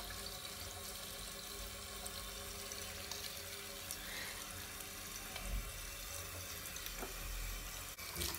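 A home sink tap runs continuously, a steady close rush of water splashing into the basin with small clinks near the end and no talk.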